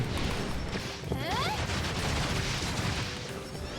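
Rapid gunfire from bullets fired in the video game Tower of Fantasy, a dense continuous barrage of shots and impacts mixed with game effects, with speech and music layered over it throughout.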